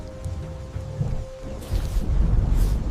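Thunder from a storm overhead rolls in as a deep, swelling rumble during the second half, over a soft patter of rain.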